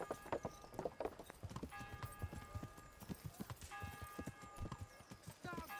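Horse hooves clip-clop steadily in the medieval game Kingdom Come: Deliverance, a close, regular rhythm of hoofbeats with sustained tonal game sounds and some talk layered over them.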